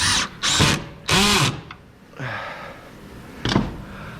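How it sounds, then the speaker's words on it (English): A power drill drives a screw into a wooden night stand body, whirring in several short bursts of varying length at close range, with mechanical clicks and handling noise between them. "Seems to be sucking down the screw well, and then not stripping either."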